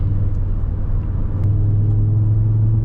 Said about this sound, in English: We're gonna try and get a launch control here.